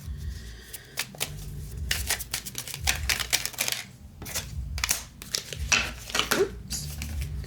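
Tarot cards are handled and shuffled, with close papery riffles, flicks and slaps coming in bursts over a faint low background.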